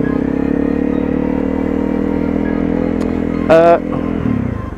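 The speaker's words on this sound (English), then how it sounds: "Yeah, so this is the Honda CRF250L." A Honda CRF250L motorcycle idles with a steady, close engine drone, joined briefly near the end by a short higher-pitched whine, while someone talks over it.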